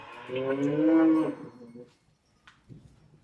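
A single cow gives one long, loud, close moo inside a large cattle barn, followed by quiet shuffling and faint background sounds.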